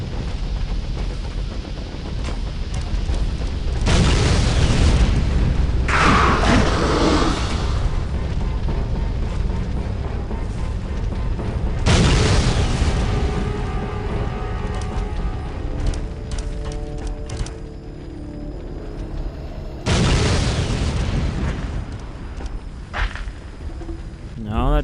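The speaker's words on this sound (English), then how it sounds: "Also disorienting to have the constant explosions." Booming explosions from the video game Aliens versus Predator 2: Primal Hunt come in several loud, heavy bursts that each fade into rumbling and ringing debris, with someone talking over them throughout.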